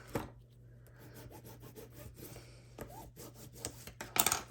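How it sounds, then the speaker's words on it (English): Tape is burnished onto a fabric-covered mini album with short, dry rubbing strokes, close and fairly quiet, in an irregular rhythm, with a brief scratchy burst at the end. "and then we can burnish that tape on"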